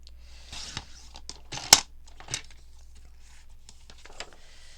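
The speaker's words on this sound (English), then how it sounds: "Going to cut that piece off again." Paper being cut for a junk journal: a few close, crisp scissor snips and rustles in irregular bursts, one sharp louder cut standing out among quieter crinkling.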